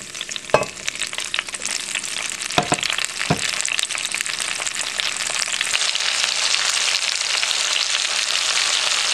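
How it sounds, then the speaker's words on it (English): Yellow summer squash is dropped onto bacon frying in a pan: a steady, close sizzle with a few sharp stirring clicks near the start and no talking. "we're going to put our squash right in on top of the bacon"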